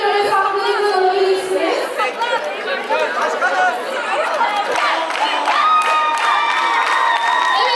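A school audience at a high school song contest applauds and cheers for a competing group, loud sustained crowd noise with whoops and shouting children, an announcer's voice carrying over the din.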